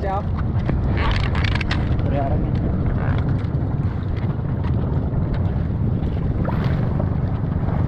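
A fishing boat chugs out at sea among many other boats during skipjack tuna fishing. Its engine rumbles loudly under heavy wind buffeting on the microphone, water rushes past, and people talk now and then.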